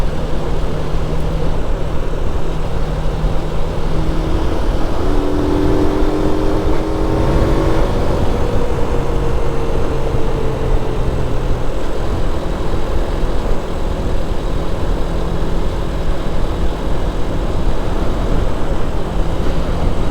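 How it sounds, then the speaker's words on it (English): Stock exhaust of a motorcycle at riding speed, a steady drone under heavy wind rush that rises and falls gently with throttle. "this should give you a good idea of the stock exhaust sound today"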